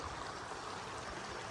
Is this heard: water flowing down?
yes